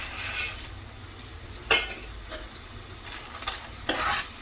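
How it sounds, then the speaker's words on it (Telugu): Vadiyalu, sun-dried lentil fritters, fry in hot oil, giving a steady close sizzle with occasional stirring scrapes and clinks from a utensil, with no talking. "ఇప్పుడైతే ఆయిల్ వేడెక్కిపోయింది, మనమైతే ముందు వడియాలు ఫ్రై చేసేసుకుందాం."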